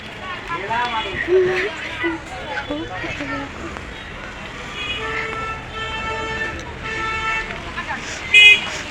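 Market street traffic with cars, trucks and buses passing, several horn toots scattered over a steady road rumble and one louder honk near the end, while people talk throughout.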